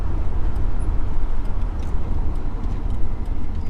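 Road noise from inside a moving car with a truck following close behind, a steady dense low rumble of tyres and engines running throughout without a break.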